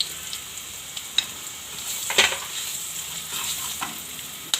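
Cumin and turmeric sizzling in hot oil, with chili added for aloo kachori filling, making a continuous close hiss with sharp spatters and a loud crackling burst midway.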